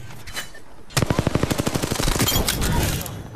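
Rapid automatic gunfire from Apex Legends rattles in a fast, evenly paced burst of close, loud shots, building to a dense stream before cutting off after a quiet moment of game ambience.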